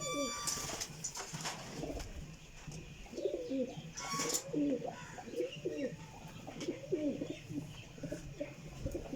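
Pigeons coo in steady, repeated low throaty phrases, with other birds chirping and tweeting around them. The sound stays at moderate loudness from start to finish, and there is no speech.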